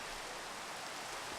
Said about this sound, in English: horrible nighttime and raining out there